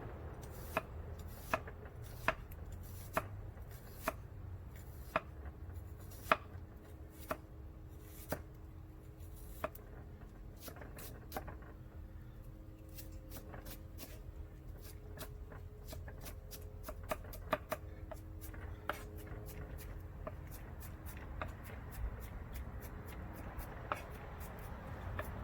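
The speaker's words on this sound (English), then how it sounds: "You don't have to chop it fine, just chop it." Knife chopping shallot on a cutting board, a steady series of sharp, quick taps that thin out later, over a low background rumble from a nearby grill.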